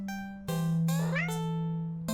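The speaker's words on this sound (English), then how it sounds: "You walk to the entrance of the alley, the cat meowing at you." A cat in a video game, sitting in an alley, lets out a few clear, close meows in quick succession, the middle one rising in pitch, over a low steady background hum.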